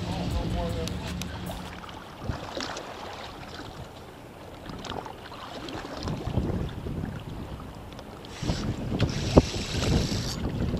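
Cold wind gusts buffet the microphone outdoors on open water while fishing for smallmouth bass, a steady rumbling whoosh with occasional knocks and faint voices underneath.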